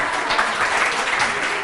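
A studio audience applauds on a morning talk show, producing a brief, steady wash of clapping throughout.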